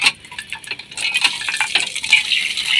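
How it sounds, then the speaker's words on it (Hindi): Morning dishes being washed by hand in a Pakistani village home: metal pots and utensils clink and clatter in close, irregular bursts with some scraping and water, no talk. "बर्तन धोए जा रहे हैं"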